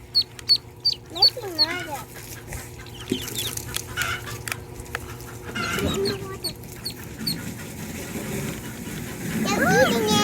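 High, repeated peeps from ducklings sound throughout, close by, with children talking and splashing noises underneath.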